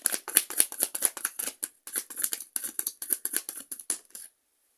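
Tarot cards are shuffled by hand in quick, close riffling bursts, a steady papery flutter with brief pauses that stops near the end; no one speaks.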